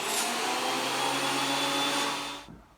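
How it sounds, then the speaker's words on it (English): A Ridgid TP1300 thickness planer runs with its shroud off, giving a loud, steady, close-up whine and roar that holds for a couple of seconds and then cuts off abruptly. "The first test is going to be the sound level with the machine running with the shroud off."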